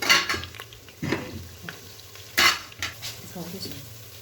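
Marinated chicken frying in a handi for achari chicken, a loud sizzle broken by repeated scraping stirs and clanks of a spoon against the pot.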